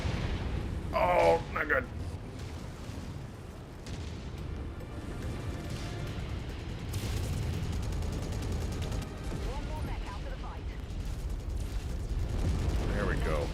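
Weapons fire from combat mechs in MechWarrior 5: Mercenaries, with a dense rumble of booming shots and blasts rolling on throughout, under a man's brief spoken reaction.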